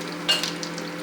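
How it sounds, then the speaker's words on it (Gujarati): Hot oil tempering with cumin, dried chilies, cinnamon and curry leaves poured into dal, giving a short burst of sizzling that rises sharply and then fades to a steady soft crackle, close by with no talking. "આપણે આ તેલનો વઘાર દાળમાં ભરી દઈશું"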